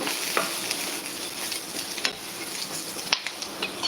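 Soft, continuous sizzle of green chilies, garlic and cumin frying in a pan, broken by occasional scrapes and taps of stirring; no one speaks.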